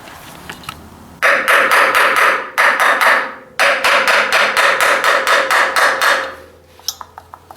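Hammer blows against a rusted front axle part on a Ford 800 tractor: rapid, loud, evenly spaced metallic taps in two long runs with a brief pause between, close up, then fading to a few faint knocks.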